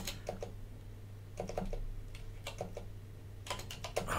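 Close, quiet clicking of a computer keyboard comes in short bursts of keystrokes separated by brief pauses, over a faint low hum and without any speech.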